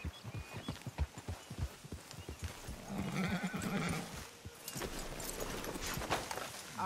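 Horses in Red Dead Redemption 2 clip-clop along, then one lets out a loud whinny, with hoof steps continuing nearby in an open outdoor setting.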